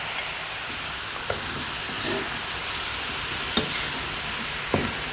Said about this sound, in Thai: แล้วก็ผัดไปเรื่อยๆครับ